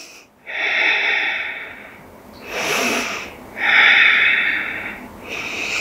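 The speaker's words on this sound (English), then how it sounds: "Breathing here for two deep breaths." Deep, slow breaths in a vinyasa yoga class, two long airy inhale-exhale cycles close to the microphone, loud and steady with short gaps between, no talk over them.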